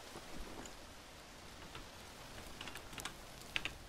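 Steady rain hiss in the Green Hell survival game, a soft, even patter across the whole stretch with a few brighter drip ticks near the end and no talking.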